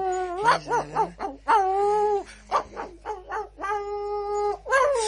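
Dogs in a French radio drama whimper and yelp in high, wavering whines, close and loud, one cry after another with a few short barks mixed in.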